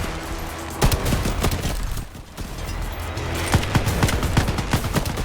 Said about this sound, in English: also when I start firing